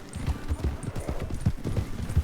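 Hoofbeats from a ridden horse in a video game clatter in a quick, uneven gallop rhythm, close and prominent over a low background drone, with no speech.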